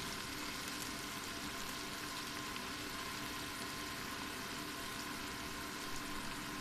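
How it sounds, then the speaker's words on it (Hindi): Mutton masala roasting in oil in a pan for bhuna gosht, a steady, even sizzle and crackle held at one level throughout, close and moderately quiet, with no talking. "दो 3 मिनट हो गए हैं इसको भूनते हुए और ऑयल भी ऊपर आने लगा है, मसाले से अलग हो रहा है ऑयल"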